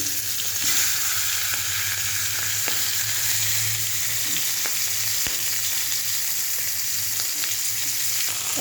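A hilsa fish head fries in hot oil with a loud, steady sizzle throughout, close by, with a few faint clicks and scrapes and no talking.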